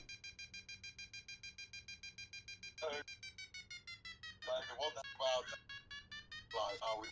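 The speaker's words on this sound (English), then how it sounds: "when I hear the beeps, I know I'm climbing" A glider's variometer gives a fast, steady train of high electronic beeps while the aircraft climbs in a thermal. The beeps run on without a break at moderate volume, and a pilot's voice cuts in briefly a few times over them.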